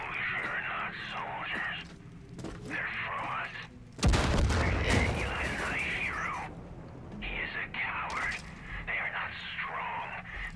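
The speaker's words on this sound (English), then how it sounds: "Alright, it's on fire. It's gonna blow up." A burning object explodes in Far Cry 5 with a sudden loud boom followed by a rumbling roar that fades over a few seconds, with people talking before and after it.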